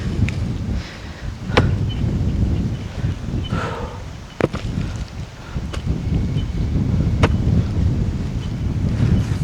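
Dry wind gusts steadily across an open coffee plantation, buffeting the microphone with a loud, continuous low rumble and occasional sharp knocks, with no voices over it.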